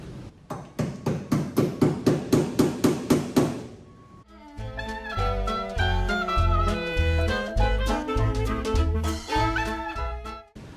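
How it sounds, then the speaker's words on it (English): A rapid series of loud metallic hammer blows on the metal of a 1967 VW Beetle in an even rhythm, then a brief pause before more irregular banging with ringing clangs. "Look out, here comes Hammer Happy Harvey."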